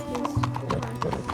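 Horse hooves clip-clopping in the video game Red Dead Redemption 2, a quick run of close, distinct hoof knocks with a brief whinny mixed in.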